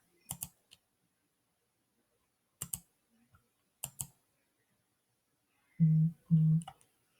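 Several sharp mouse clicks at a computer, scattered singly and in pairs across a quiet room, with two louder, duller thumps near the end.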